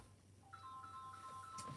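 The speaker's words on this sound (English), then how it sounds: "Hold on, my phone ring." A mobile phone rings with a faint, repeating electronic tone against quiet background hiss.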